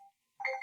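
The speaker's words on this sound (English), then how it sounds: "That's my alarm." A phone alarm sounds in short, faint electronic tones: a brief note, a pause, then a brighter ringing chime.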